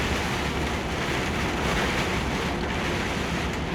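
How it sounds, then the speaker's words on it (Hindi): Heavy rain hits a car windshield while driving in mountains in Italy, with automatic wipers running, a dense, steady roar of water and road noise with no clear wiper strokes and no talk. "अब जितनी तेज़ पानी पड़ेगा शीशों पे, इतनी तेज़ वाइपर चलेगा"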